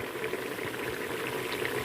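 Chopped onion fries in sunflower oil, a soft, steady bubbling sizzle with tiny crackles, faint and even throughout.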